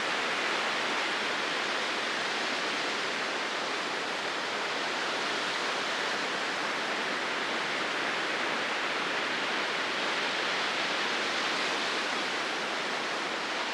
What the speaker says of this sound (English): look at those waves come through it